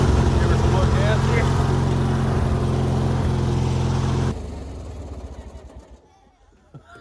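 A Craftsman garden tractor on ATV tires revs hard in a stuck spot, the engine loud and strained for a few seconds before cutting back and fading, with a voice speaking over it.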